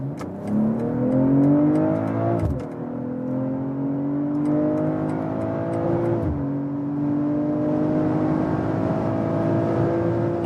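A BMW M340i in Sport Plus accelerates hard on the German Autobahn, its engine note climbing steadily through the gears with two brief dips at the upshifts, loud and continuous from inside the car.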